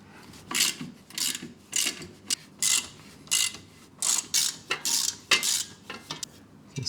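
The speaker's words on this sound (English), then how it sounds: "So you want to remove these 3 bolts." A hand ratchet loosens 12 mm bolts on the cover of a Honda TRX 350 FE ATV, giving repeated close, crisp bursts of rapid clicking separated by short pauses.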